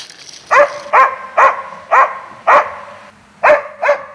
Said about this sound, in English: The hunter will always know by the way his dog barks whether it's chasing a bird, a squirrel, or sable